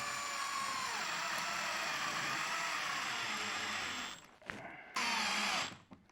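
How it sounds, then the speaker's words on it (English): Power driver running steadily while screws are driven into a ceiling fan mounting bracket, a continuous close buzzing whine that cuts out briefly and then resumes in a short final burst. "I'm actually gonna do 2 more screws as well, just right up in our mounting bracket points"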